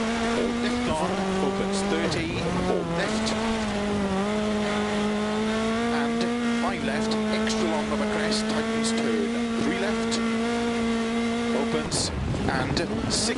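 A rally car engine in Dirt Rally 2 holds a steady high drone with small shifts in pitch, like a car cornering hard, with no clear gear changes and a brief burst of noise near the end.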